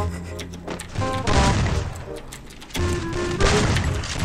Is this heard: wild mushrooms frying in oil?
no